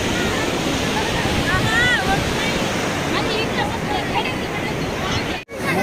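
Sea waves roll in at Baga Beach, Goa, in light drizzle, a constant rushing surf blended with wind and the chatter of a beach crowd.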